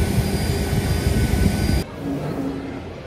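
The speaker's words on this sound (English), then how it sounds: "Just in Dublin airport, ready for the next flight" Loud, steady jet aircraft roar at Dublin airport, a broad continuous rumble that drops abruptly partway through to a quieter hum with faint tonal whine, no talking.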